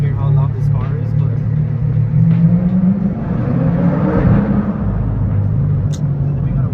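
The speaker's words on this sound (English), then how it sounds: "go ahead and hear how loud this car is" A modified Corvette C8 engine rumbles loudly and rises in pitch as it revs, a steady throaty drone filling the whole stretch, with talk underneath.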